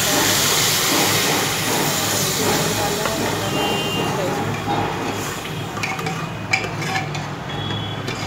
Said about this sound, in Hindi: सिटी लगने तक हम पकने देंगे, दो सिटी में ये तैयार हो जाते हैं।